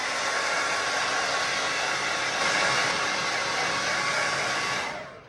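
A hair dryer blowing on a freshly painted picture to dry the paint, a steady loud whooshing roar held close for several seconds before it switches off at the end.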